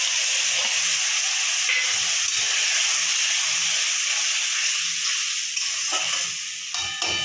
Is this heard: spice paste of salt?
yes